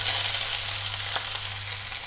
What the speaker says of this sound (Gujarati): ઝીણા કાપેલા કાંદા એડ કરીશું।